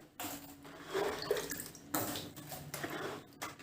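Water is poured into a home fish tub lined with a thin layer of light sand, in irregular gushing splashes that surge and pause, fairly close and without voices.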